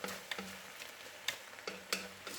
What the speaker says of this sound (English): I'm just gonna stir in my lentils